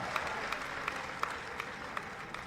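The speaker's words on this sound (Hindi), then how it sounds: "एक जोरदार ताली बजा दीजिए" An audience applauds at a public gathering, a dense, steady wash of many hands clapping together at moderate distance with a few sharper claps standing out, no talk over it.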